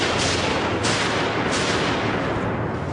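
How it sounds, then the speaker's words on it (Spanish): Gunshots fired at John Lennon at the entrance of his New York apartment building ring out as loud, sharp blasts spaced under a second apart, set against a dense, continuous roar. "El conserje oye 5 disparos."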